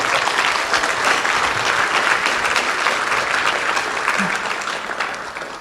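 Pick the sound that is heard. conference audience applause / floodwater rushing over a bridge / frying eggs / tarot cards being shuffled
conference audience applause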